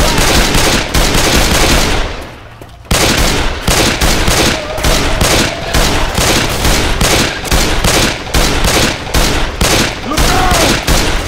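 Rapid automatic gunfire from Left 4 Dead 2, loud bursts of machine-gun fire stuttering almost continuously across the scene with a brief lull midway, then resuming in steady rattling volleys.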